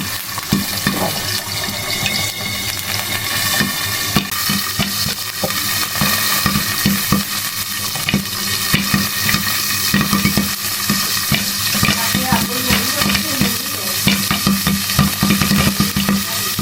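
Food frying in a hot pan crackles and sizzles steadily, with small pops breaking out one by one over a continuous bubbling hiss, close and fairly loud.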